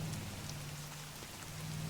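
Steady rain falls across a battlefield in Strategic Mind: The Pacific, a dense even hiss of drops on surfaces with a faint low hum beneath, continuous and uninterrupted, with no voices.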